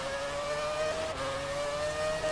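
A 2007 Ferrari Formula 1 car engine in the F1 2017 racing game at Brazil, a loud high-pitched steady whine holding near-constant revs with a brief dip midway, no talk.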